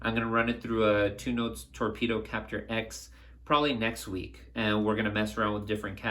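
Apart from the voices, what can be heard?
None of the usual background noises is heard.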